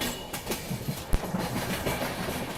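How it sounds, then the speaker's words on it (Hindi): CR Rajdhani Express passenger train rolling along the rails toward a ghat section, giving a steady close rumble with faint rhythmic clatter and one sharp knock partway through. "अब ट्रेन घाट सेक्शन की तरफ बढ़ चलती है।"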